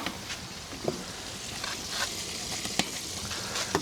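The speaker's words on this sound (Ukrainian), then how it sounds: "нехай наша рибка зараз кипить" Fish fries in hot oil with a steady crackling sizzle and occasional pops, close and continuous.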